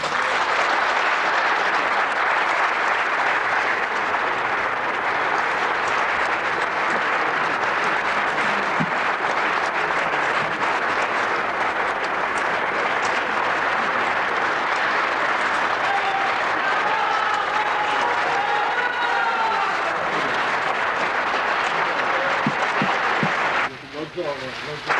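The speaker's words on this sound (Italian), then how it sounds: "Il pubblico non deve applaudire, il pubblico deve stare in silenzio" An audience at a speech breaks into sustained, loud applause, a dense wall of clapping that carries on without pause for nearly the whole stretch before cutting off abruptly at the end.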